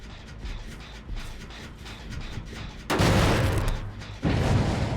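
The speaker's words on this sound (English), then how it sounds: "Thanks for the firecrackers." Firecrackers go off in a video game as dense, crackling bursts of popping noise that swell loudly twice over a steady background din.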